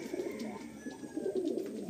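Giribaz pigeons in a loft cooing softly in low rolling phrases, several birds overlapping at moderate distance in a quiet space.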